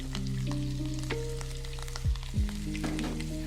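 Chopped beef frying in hot oil in a pot, a close steady sizzle with a low constant hum beneath and a few brief scraping stirs.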